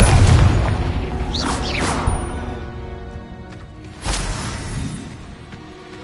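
Confringo spell blast in Hogwarts Legacy, a loud booming explosion with a whooshing crackle that rolls off, followed by a second heavy burst about four seconds in; no talk.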